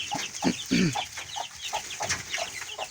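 Hens cluck and cackle in a henhouse in a busy overlapping stream of short calls, close by, with a light background hiss.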